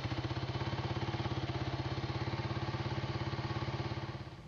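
An old farm motorcycle runs with a steady, rapid engine thrum that chugs evenly and stays close and loud throughout, then eases off slightly at the very end, with no voices.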